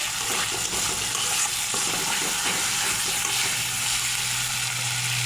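Spice paste sautés in a pan for a fish kalia curry, with a continuous close sizzle and soft wet bubbling, plus occasional stirring scrapes under a low steady hum, no voices.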